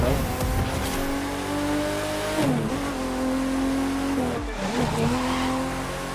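Porsche 911 GT (993) street racing in The Crew 2, its engine droning and revving loudly and continuously, with gear changes and shifting pitch over steady road noise and tire sound.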